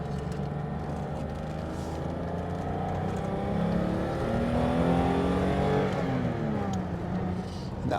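A 1985 BMW M635 CSI cruises along a motorway, heard from inside as a steady engine drone that rises and falls with gear changes and acceleration, under constant road and wind noise.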